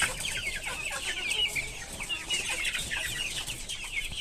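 Desi hill chickens and roosters cluck busily in a cage, a dense stream of short, sharp calls overlapping throughout at moderate loudness.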